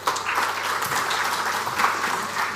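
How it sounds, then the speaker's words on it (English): Audience clapping at a public sector digital transformation awards ceremony: a steady, dense round of applause from many hands, continuous and fairly loud throughout. "A round of applause for him for a job well done."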